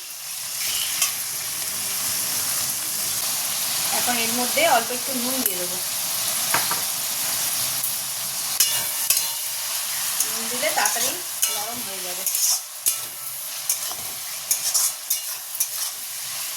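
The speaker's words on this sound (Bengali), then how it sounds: "এই চিকেনটাও ভাজা হবে তার সঙ্গে পেঁয়াজটাও একদম লাল লাল করে ভাজা হয়ে যাবে" Chicken and onions frying in a pan: a continuous loud sizzle with stirring scrapes, while a person talks over it in two short stretches.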